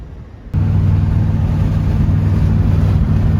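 A 1967 Mercury Cougar idling with its muffler wired back on, starting abruptly into a steady, low, even exhaust burble that holds close and loud without a break.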